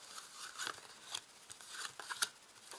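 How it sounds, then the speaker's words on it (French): Tarot cards are drawn one after another, giving soft, close papery slides and crisp snaps in an irregular series, faint and with no talk. "je vais tirer 5 cartes"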